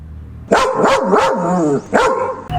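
A male dog barks at close range, three quick loud barks in a row, then a pause and one more bark, with a short whine between.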